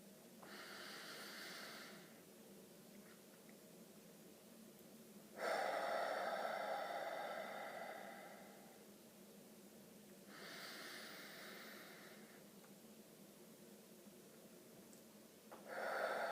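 Slow, deep breaths drawn in and let out to calm rising panic, each long breath loud and close, alternating inhale and exhale with quiet gaps between and no talking.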